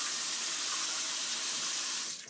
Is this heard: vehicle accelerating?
no